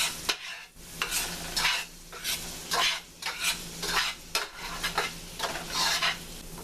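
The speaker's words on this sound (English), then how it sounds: "Now let's get our shrimp all nice and coated in that butter." Shrimp chunks sizzle in butter in a pan while a utensil stirs them, giving repeated scraping strokes over a steady frying hiss, close and fairly loud, with no talking.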